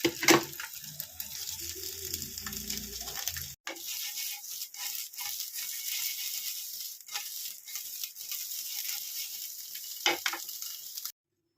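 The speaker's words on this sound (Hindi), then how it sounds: "तो देखिए मैं किस तरह से इसको शैलो फ्राई कर रही हूँ।" Paneer shallow-fried in a pan gives a steady crackling sizzle, close and fairly quiet, with occasional clinks of a utensil and brief stirring bursts.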